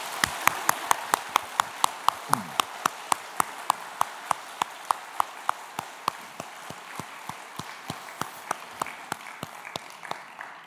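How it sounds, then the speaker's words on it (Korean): A church congregation at an early-morning special prayer service claps in steady, evenly spaced beats, a rhythmic unison clapping that runs throughout at moderate loudness with no talking. "우리 박수 한 번 더 하도록 하겠습니다."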